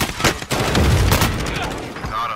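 Bursts of rapid gunfire from the Warzone video game crackle in close, loud volleys, with a person talking over the shooting.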